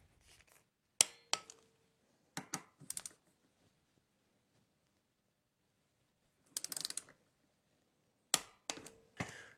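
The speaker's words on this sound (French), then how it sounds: "il va falloir serrer un couple de 10" Sparse, quiet bursts of metallic ratchet-like clicking from tightening a bolt to a torque of 10 while fitting a kickstart kit on a Husqvarna FE motorcycle, in short clusters separated by silence, with no talking.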